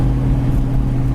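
A 1970 Chevy Chevelle Super Sport with a 396 engine idles close by, its exhaust giving a loud, steady, deep rumble with a strong low hum and no clear rev rise in this short stretch.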